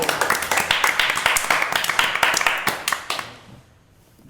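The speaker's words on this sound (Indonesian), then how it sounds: "Tepuk tangan dulu ya." A studio audience on an Indonesian TV show claps in a brisk, fairly rhythmic burst for about three seconds, close and loud, then fades out into near quiet.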